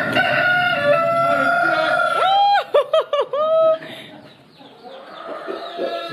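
Farmyard chickens at a holiday chalet, hens clucking and a rooster letting out a loud, close crow in the middle, with more scattered clucks before and after and a voice faintly in the background.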